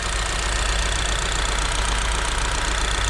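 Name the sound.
Kia Sportage 1.6 turbo GDI AWD petrol engine running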